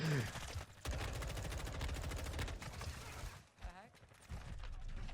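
Rapid automatic gunfire from Call of Duty Modern Warfare 2 rattles in dense bursts, with a brief pause midway, as a voice talks over the shooting.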